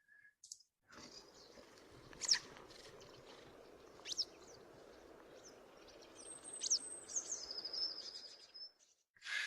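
A yellow wagtail of the flavissima subspecies, recorded in Irish countryside, gives a few thin, sharp calls as it flies off. The calls are spaced apart and faint over a low outdoor hiss.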